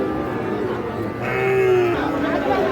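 Sahiwal bull calves and other cattle at a busy livestock market in Ambari, with a drawn-out moo rising over a steady crowd murmur and background chatter.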